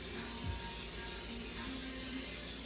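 A continuous hiss of cooking spray being sprayed into a pan, close and steady for a couple of seconds.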